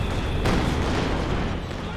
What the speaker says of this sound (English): the heavy mortar getting barraged by the LEFH